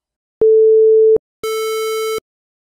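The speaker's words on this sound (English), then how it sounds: "Let's compare directly how a sine wave and a square wave sound." Two synthesized tones of the same pitch play in turn, a pure sine wave then a buzzy square wave, each lasting under a second and separated by a short gap, clean and steady with no other sound.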